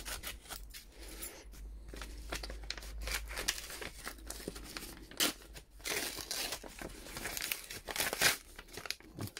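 Paper of a mailed letter envelope being torn and crinkled open by hand, a series of close, dry rips and crackles with uneven rhythm, no voices over it.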